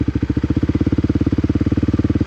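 A motorcycle engine idles close by with a fast, even chugging pulse, loud and regular for the whole stretch with no voices.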